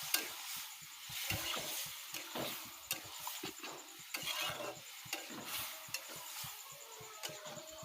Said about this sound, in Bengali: এবার এতে দিয়ে দিব ডাল আর এই লালমি সেদ্ধ করাটা। এবার হালকা করে নেড়ে নেব।